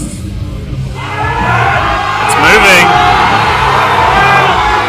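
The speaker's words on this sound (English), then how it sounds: "The crowd's getting behind him." A crowd at the New Zealand men's powerlifting championships swells into cheering and shouting behind a lifter's final 292.5 kg attempt. The roar is loud and sustained over a commentator's voice.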